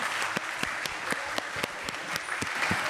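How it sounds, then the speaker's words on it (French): Audience applause at a Creole dictation event at La Réunion regional council, a steady wash of clapping with a few sharper hand claps standing out, continuous for a few seconds without speech. "Je crois qu'on peut tous applaudir bien fort."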